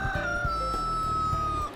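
A rooster crows among free-roaming chickens in the quiet countryside of Yeongdeok, North Gyeongsang. The single long, drawn-out crow rings out close by over low, rough clucking.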